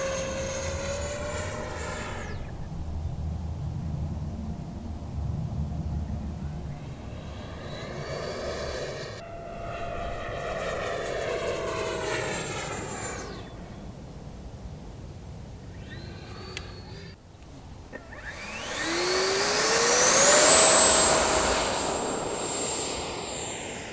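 A Freewing F9F Panther 70mm electric ducted-fan model jet performs tumbles in flight, its high whining fan sweeping up and down in pitch as it passes, loudest on a near pass toward the end.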